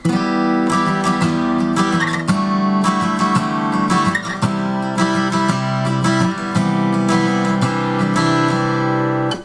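An acoustic guitar strums through the chord progression of a song, rhythmic and close, with repeated strokes moving between several chords.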